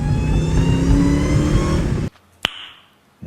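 Supercharged Dodge Hellcat 300, tuned to 850 wheel horsepower, roars loudly in second gear for about two seconds, then cuts off abruptly; a sharp transient follows before the engine note returns at the end.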